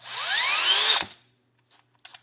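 A Milwaukee cordless drill spins up with a rising whine for about a second, then stops abruptly, followed by a couple of faint mechanical clicks.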